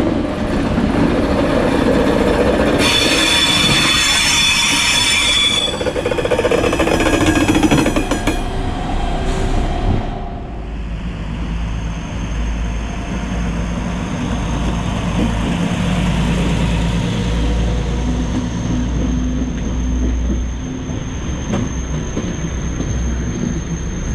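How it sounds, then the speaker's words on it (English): An Uerdinger railbus pulls out of a station in Cologne, its engine rumbling and wheels squealing loudly at first, then easing into a steadier low rumble as it draws away, with a thin high tone lingering. "we're gonna listen to our sound of our train leaving the station"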